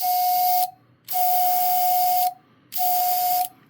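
A loud hissing whistle with a steady high tone blows in three long bursts, each cut off by brief silences, from a Harbor Freight Black Widow dual air compressor.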